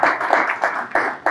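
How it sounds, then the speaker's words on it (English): A few hands clapping in a loose, even rhythm after a tefillah, each clap crisp and close, roughly three per second, with no voices over it. "You can even clap if you want."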